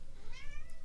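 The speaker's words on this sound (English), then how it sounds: "Here comes the cat." A cat gives a single short meow, faint and slightly distant over a low background hum.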